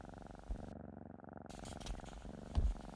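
A cat purrs close by in a steady, rumbling rhythm, soft and continuous throughout.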